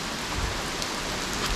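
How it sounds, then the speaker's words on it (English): Steady rain falls outdoors, close and even, with a dense continuous hiss and scattered drop patter. "It wasn't meant to rain today."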